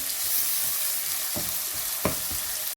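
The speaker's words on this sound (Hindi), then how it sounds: "और ये अदरक जो मैंने बारीक की चॉप की हुई है, इसको डालेंगे और इनको हम अच्छी तरह से भूनेंगे" Finely chopped ginger and onions hiss in hot oil in a pot, a close, even sizzle with two brief stirring clunks before it cuts off abruptly.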